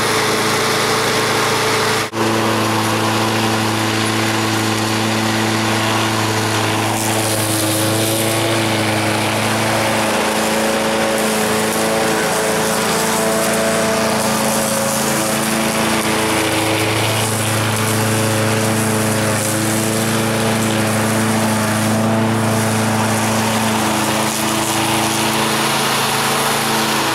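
A walk-behind lawn mower engine runs loudly and steadily close by, a sustained droning hum that dips and rises slightly in pitch over nearly half a minute, after a sharp start near the beginning.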